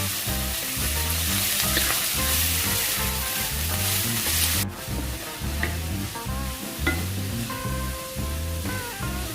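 Chopped cabbage stir-fried into a hot tempering in a pan gives a loud, steady sizzle with repeated stirring scrapes, the hiss easing slightly partway through.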